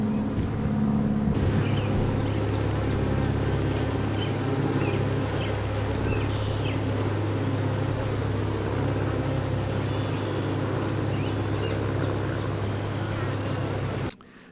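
Honeybees buzzing around hives set on pallets on a farm, a steady dense drone of many bees close by, continuous and even until it cuts off at the end.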